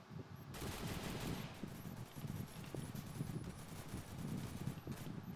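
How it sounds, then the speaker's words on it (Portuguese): Gunfire from many players in a Free Fire battle royale match among dense houses, a continuous crackling barrage of shots with no clear gaps, fairly loud and steady throughout. "Muito cara tocando tiro aqui, galera."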